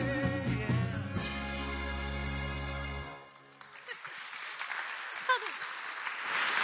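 A live band finishes a soul song at an adult-education awards ceremony, with sustained music cutting off midway before an audience breaks into scattered, steady clapping that continues to the end.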